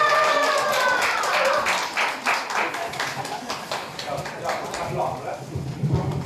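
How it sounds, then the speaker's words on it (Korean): Villagers clap at a village discussion meeting, a burst of individual claps with audible separate hand strikes, while voices talk over it. "박수 시작!"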